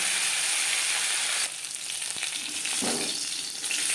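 Pieces of bhola sea fish fry crisp in hot oil, a loud, steady hiss close by that drops a little partway through as scattered pops and spatters come and go.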